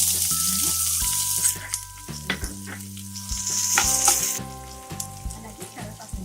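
Onions go into hot oil with green chillies already in the pan for beetroot rice, sending up a loud burst of sizzling and crackling, with clattering utensil knocks and tonal clinks between uneven surges.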